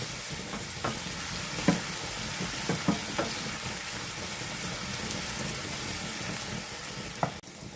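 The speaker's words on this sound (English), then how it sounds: "I'm going to fry this about 5 minutes." Ghanaian egg sauce fries in a pan, a quiet, steady sizzle with a few soft clicks and taps of a utensil, heard close with no voices.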